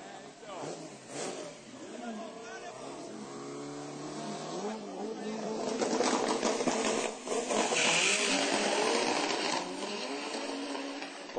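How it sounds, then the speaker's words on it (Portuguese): A Volkswagen Beetle (Fusca) and a Honda Fit launch side by side at a Velopark 402 drag racing event, engines revving and roaring past over a loud announcer and crowd. "O Fusca do Sandro versus o Fit do Felipe."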